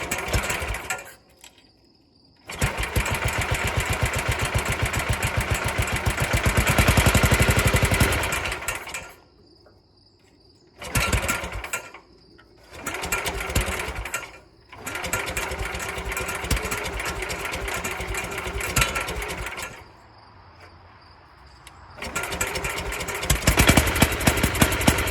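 A 1967 Sears Super 12 garden tractor engine cranks and catches several times, running loud and close in bursts between stops, with a high whine alongside and short quiet stretches where it cuts out.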